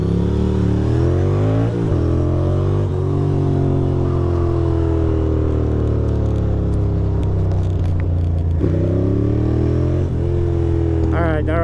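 A motorcycle engine revving steadily up and down close by, its loud rumble rising and falling in pitch throughout.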